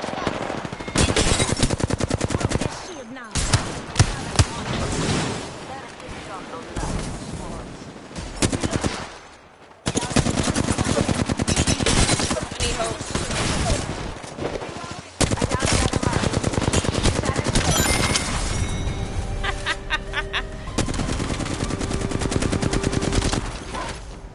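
Gunfire in the battle royale game Apex Legends: repeated loud automatic bursts and single shots in quick succession, broken by brief pauses, with game sound effects between bursts.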